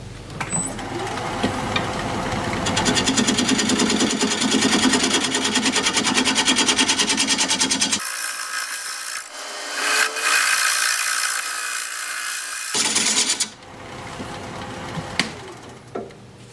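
A wood lathe spins a bowl while a gouge flattens its bottom, a steady loud scraping, hissing cut that shifts in tone partway through and tapers toward the end.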